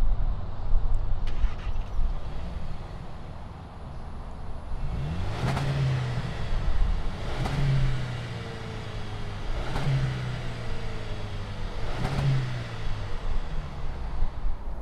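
A 2020 Jaguar E-Pace compact luxury SUV engine idling close by, then revved four times in evenly spaced bursts, each rising sharply and falling back to a steady idle.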